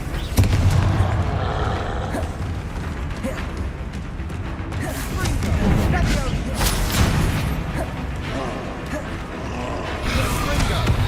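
Confringo and Bombarda spell explosions in the game Hogwarts Legacy, rumbling booms and crackling blasts recurring through a dense, continuous battle din, with a voice talking over them.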